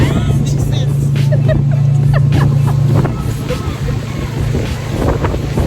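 Strong wind on an island beach at Lime Cay off Port Royal, Jamaica, buffeting the microphone as a loud continuous roar with low rumble, while faint voices and other sounds come through underneath.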